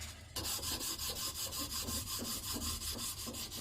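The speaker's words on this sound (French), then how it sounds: "Et maintenant, ponçage à la main." Steady back-and-forth scratching of 240-grit sandpaper rubbed by hand over a wooden TV and soundbar stand, close and rhythmic, about eight even strokes with no voices.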